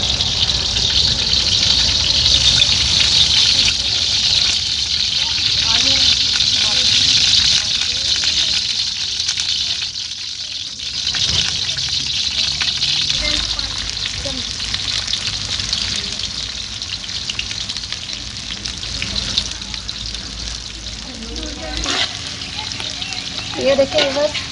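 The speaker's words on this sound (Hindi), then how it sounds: "ये घी में मैंने प्याज डाल दिए हैं। अब हम इसे लाइट गोल्डन कलर में कर लेंगे फ्राई।" Chopped onions fry in hot ghee in a pan, cooking toward light golden: a loud, steady, close-up sizzle and hiss that runs without a break, with a few soft stirring clatters.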